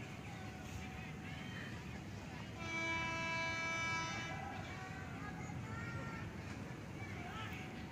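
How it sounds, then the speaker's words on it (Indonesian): An Indonesian economy-class passenger train passes with rumbling wheels over a steady background, and a brief horn blast sounds midway, somewhat distant. "Siap-siap kereta kereta api ekonomi."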